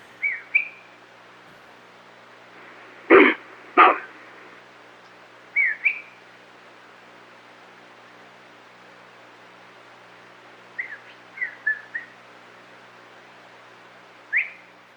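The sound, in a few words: person whistling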